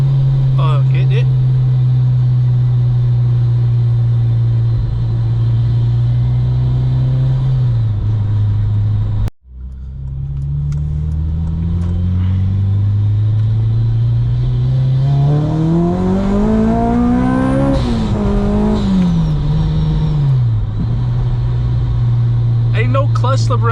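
A 350-horsepower 8th-gen Honda Civic Si drones loudly from inside the cabin while driving. After a brief cut, it pulls hard with the engine pitch climbing steadily, then drops back to a steady cruise.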